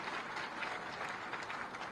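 An audience claps steadily at a foundation stone laying ceremony for the Hari Nagar DTC bus depot, a dense, even wash of applause that sounds somewhat distant and carries no speech.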